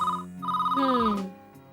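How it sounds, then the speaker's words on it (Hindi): A telephone rings in a home, with a steady electronic ringtone that repeats in short bursts and then fades, heard alone without talk. "जरा फोन अटेंड करो।"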